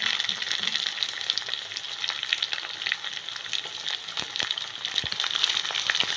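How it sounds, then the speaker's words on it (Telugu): Onions and chillies fry in hot oil, a steady close sizzle with crackling pops and occasional stirring scrapes, with no talk over it. "ఇవన్నీ వేసి ఆయిల్లో కొంచెం ఫ్రై చేసుకోవాలి."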